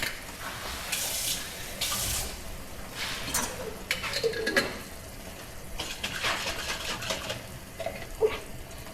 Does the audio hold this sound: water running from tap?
yes